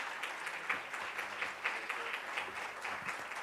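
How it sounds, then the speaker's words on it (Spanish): Audience applause at a teleconference on adult and pediatric life support, a soft, distant wash of many hands clapping steadily, with a few sharper nearby claps standing out. "el aplauso para ellos"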